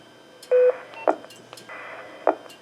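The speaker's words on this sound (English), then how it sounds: "If you hear a low-pitched tone, you know they're not in your zone" Radio repeater sending a low-pitched out-of-zone tone: steady electronic tone bursts with short bright beeps between them, clear and close against a faint hiss.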